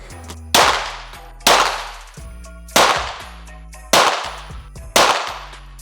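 Gunshots from sport shooting at a shooting range, five sharp loud reports spaced about a second apart, each with a ringing decay.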